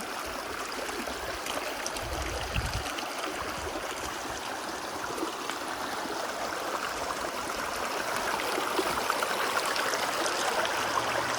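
Shallow creek water flowing steadily over rocks at Coyote Creek in Moreno Valley, a continuous broadband rush and gurgle, close and even throughout, with no voices.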